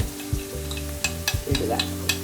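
Kneaded spice masala tipped into onions frying in a pan, a close sizzle broken by several sharp spoon scrapes and stirring knocks, with a brief hiss of added moisture near the end, no voices.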